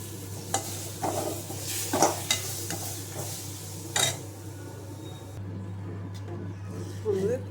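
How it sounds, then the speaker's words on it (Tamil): Mustard seeds and urad dal frying in hot oil for a tempering, with soft sizzling, several sharp pops and clinks of a spoon stirring in the pan over a steady low hum, at moderate level. "கடுகு உளுந்து எல்லாம் போட்டுக்கோங்க."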